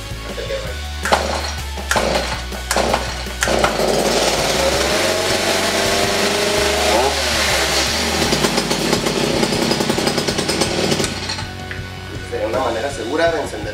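A chainsaw engine being pull-started, with a low engine rumble building and running loudly for much of the clip over a continuous broadband roar, with sharp bursts at the start.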